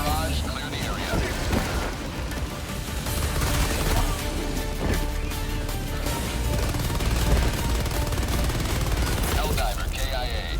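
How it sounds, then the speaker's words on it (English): An orbital barrage in Helldivers 2 rains down as heavy explosions and rattling gunfire, loud and unbroken, with voices shouting over the battle. "Firing orbital barrage. Clear the area."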